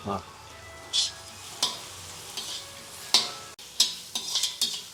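Onion, green chilli, ginger and curry leaves frying in a pan for lemon chitranna, a constant sizzle punctuated by several sharp spoon scrapes and stirring clatters.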